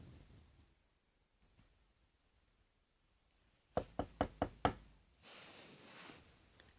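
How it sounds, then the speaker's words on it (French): Five sharp knocks on a door come in a quick, evenly spaced burst, close and distinct against a quiet background, followed by a soft rustle. "Je commence par frapper à la porte."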